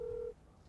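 A phone placed on a video call to a grown-up daughter gives one steady dial or ringback tone, fairly loud, that stops abruptly partway through, leaving faint room noise.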